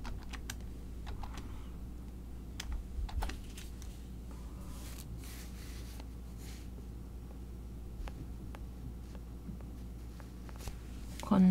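Soft, sparse clicks from a computer keyboard during work in an Excel spreadsheet, including a Ctrl Shift Enter key combination, heard faint and close against a quiet room.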